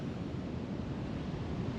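Ocean surf rumbles in a dense, continuous wash, steady and moderately loud with some wind buffeting, no distinct individual wave breaks.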